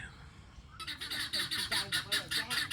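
A goose honks in a rapid series of loud, rhythmic squawking calls close by, beginning abruptly after a quiet start and continuing steadily to the end.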